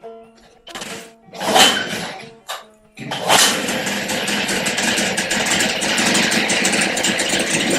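A 1973 Evinrude 9.9 hp outboard motor with a freshly cleaned carburetor cranks in a few short bursts, then catches and runs steadily, loud and close.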